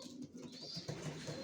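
Racing pigeons of a Janssen line cooing in their loft, a faint, low, rolling coo with a brief rise, heard alone without voices.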